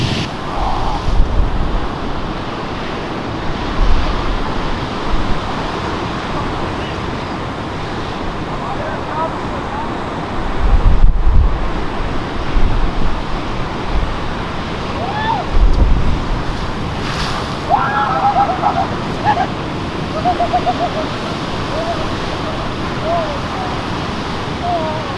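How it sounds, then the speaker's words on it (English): Surf breaking steadily on a wild West Coast shore, a continuous wash of waves with heavy wind buffeting the microphone and a few louder surges, distant and rolling throughout. "Fishermen do fish off there, but they don't go down that far, especially when there's a few waves coming in."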